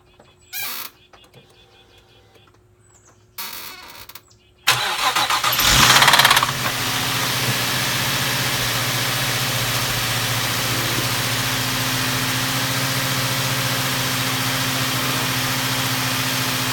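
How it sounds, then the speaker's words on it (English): Cold start of a Nissan 350Z: the engine cranks and catches about five seconds in with a loud surge, then settles into a steady, close idle. Quieter clicks and shuffling come first, and no one speaks. "this is what's happening to my 350Z on a cold start. It's like a knocking noise, but it only stays there for 2 seconds and then it leaves"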